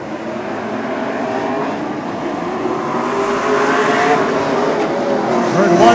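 Super short track race cars roar off together at the start of a heat, a dense engine drone that swells louder toward the end while a commentator talks over it.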